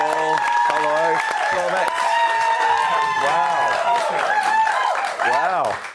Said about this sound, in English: Keep clapping and I won't have to say anything.